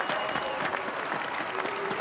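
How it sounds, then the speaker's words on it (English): Spectators at the Great Manchester 10k road race cheer and clap steadily for passing runners, a dense, continuous roar of applause and crowd noise. "getting cheered on by the crowd"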